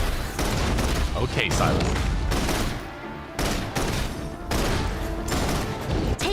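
Sylus's special weapon firing in Love and Deepspace, dense bursts of loud gunfire and booms with brief lulls, heard under a voice speaking briefly.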